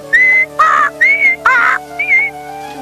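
A voice imitates a bird, whistling in a rapid series of five clear, high warbling bursts with short gaps between them, sounding close and fairly loud with no talk over it.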